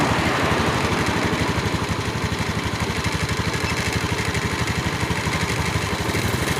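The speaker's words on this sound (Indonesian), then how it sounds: "bisa teman-teman dengar mungkin ya, untuk mesinnya rodanya pun sudah berputar teman-teman" Honda Beat ESP scooter running on a workbench during ECU service with its rear wheel spinning, a steady close mechanical drone with a fast, even pulsing throb that never changes pitch.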